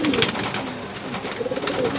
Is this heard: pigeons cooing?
yes